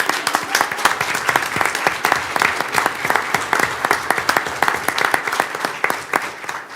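A school board meeting audience applauds steadily and loudly for several seconds. The claps are dense, evenly sustained and close by, with no distinct cheering standing out.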